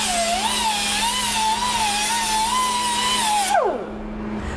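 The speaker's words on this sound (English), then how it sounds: "now all you have to do is finish grinding it and you're done" An angle grinder works down a MIG weld seam on a hot rod's upper fan shroud, a loud steady whine that wavers slightly under load before spinning down and stopping near the end.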